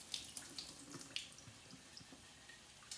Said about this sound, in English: I'm gonna go ahead and just drain my green beans.